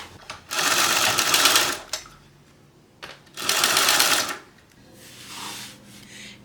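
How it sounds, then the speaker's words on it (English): A sewing machine bastes fabric at a 1/8 inch seam allowance while a bag is assembled, running loud and close in two long bursts of rapid needle chatter separated by a pause, with a softer brief run at the end. "let's go and base them together at 1/8 of an inch seam allowance."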